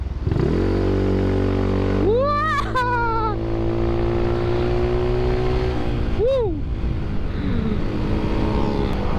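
A scooter fitted with 2000 rpm clutch springs and a 1500 rpm CVT spring idles close by, then revs and accelerates with a rising whine. It eases off and surges again in a second brief rev before settling to a steady drone.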